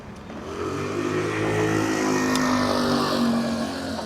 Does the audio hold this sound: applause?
no